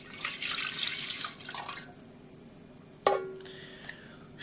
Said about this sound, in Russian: Далее сюда добавляем 250 миллилитров молока.